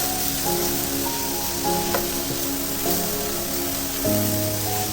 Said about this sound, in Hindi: मशरूम को थोड़े से ऑयल के अंदर सौते कर लिया था